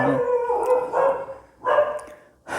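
Several dogs bark and howl outdoors, loud drawn-out bursts arriving in three separate waves with short pauses between them.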